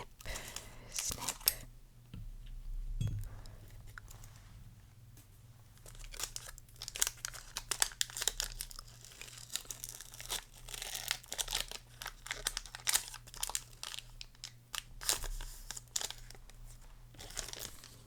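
A foil wrapper on a Pokemon White Flare card pack is torn and crinkled open up close, a long stretch of busy rustling, crunching and tearing that is loud and continuous, with a low hum underneath.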